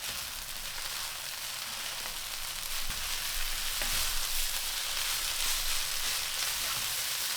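Soy sauce chow mein with bean sprouts and spring onion greens sizzles steadily in a hot wok, a loud continuous frying hiss with occasional soft stirring knocks and no talk.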